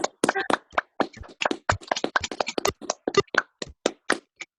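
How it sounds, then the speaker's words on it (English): Sparse, scattered clapping from a few people on a muted online group call: irregular individual claps at varying loudness, with no voices. "you can hear the applause happening now"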